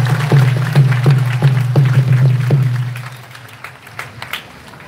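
A congregation applauds at the end of a jubilee Mass for the 40th anniversary of the Diocese of Grand-Bassam. Broad clapping under a rhythmic low thumping beat fades after about three seconds, leaving scattered claps.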